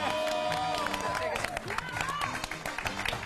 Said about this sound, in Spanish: Un aplauso para la tía de Pierre.